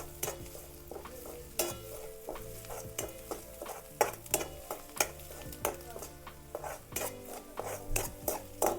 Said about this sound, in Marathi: आता हिरव्या मिरच्या टाकून घेऊया मिरच्या पण चांगल्या परतून घ्यायच्या